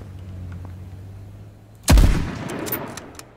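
A sudden loud burst of gunfire in the video game H1Z1 booms out after a low steady drone, then rumbles and decays with scattered crackles.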